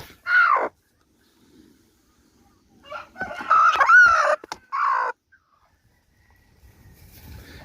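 A broody hen makes several short, harsh, agitated clucks and squawks at close range, separated by near silence, with a longer strained call in the middle.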